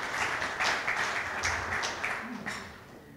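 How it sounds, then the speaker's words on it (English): An audience at a telecommunications inauguration ceremony applauds for Bharat Airtel, a moderately distant patter of many hands clapping that gradually fades. "can we please still have a round of applause for Bharat Airtel"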